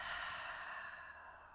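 A long, soft, breathy exhale during a guided breathing exercise, a single gentle airy rush fading gradually near the microphone, with no talking.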